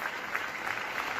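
An audience at a talk on pastoral care for older adults claps steadily, an even wash of applause with no speech over it.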